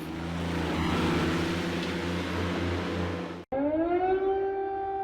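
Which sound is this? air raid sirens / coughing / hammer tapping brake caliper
air raid sirens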